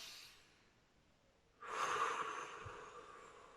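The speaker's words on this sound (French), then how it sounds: "Donc on inspire par le nez, on expire par la bouche et faites-le de façon très lente." A slow breath drawn in through the nose and let out through the mouth during a relaxation exercise: a faint quiet stretch, then a sudden airy exhale that swells and gently fades, close and alone.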